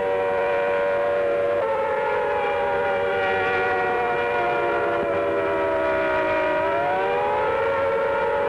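A civil defense air-raid siren sounds during the 1986 Wan An air-defense drill as part of an electronic alert system. The loud, sustained wailing tones hold steady, then shift pitch, with no voices.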